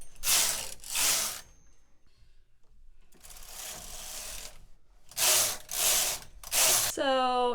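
Flatbed knitting machine carriage knitting shoulder stitches off onto waste yarn, several loud rasping mechanical sweeps back and forth, close up, with brief quieter stretches between passes.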